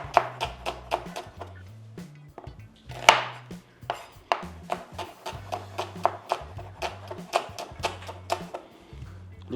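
An onion is chopped with a knife on a board, a crisp run of rapid, close taps in uneven bursts with brief pauses, clear and alone over a faint low hum.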